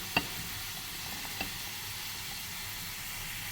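Chopped onions sautéing in a pan with cumin for an egg gravy, giving a steady soft sizzle throughout, with a couple of brief clinks from stirring near the start.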